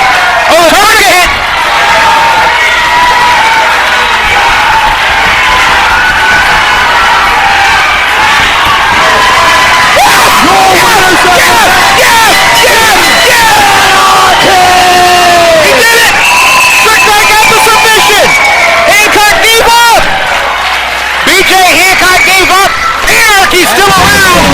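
A loud, sustained crowd roars and cheers at a live Anarchy wrestling event, dense and continuous throughout with rising swells of shouting, while a commentator talks over it.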